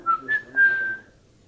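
A person whistles three clear notes, two short rising chirps followed by a longer held tone, close and alone.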